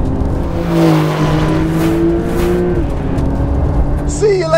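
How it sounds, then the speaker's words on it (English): A Porsche 911 Carrera S pulls hard in a drag race against a Corvette, its engine note rising steadily through the gears, heard from inside the car with people talking over it. "Oh, the 911's just got some serious legs at the top end."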